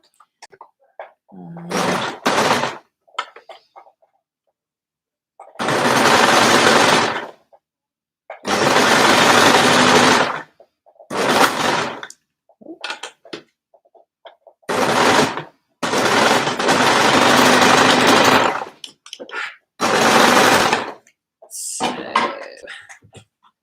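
Overlocker stitching thick fabric for a cardigan, loud close machine whirring in several bursts of one to two seconds separated by silences, with a few small clicks and handling sounds between runs.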